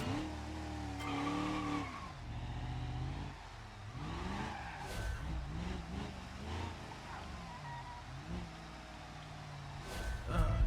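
A Moonhawk car in BeamNG revving hard and chasing a Corvette, engine pitch climbing and dropping through gear changes with tire squeals and skids, near and loud, with a voice talking over it.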